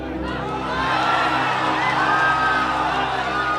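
A boxing match crowd roars loudly and continuously during round six, a dense sustained cheer with whoops and shouts, with an announcer's voice running underneath.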